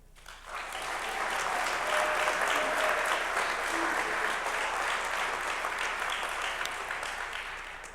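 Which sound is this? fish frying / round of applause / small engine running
round of applause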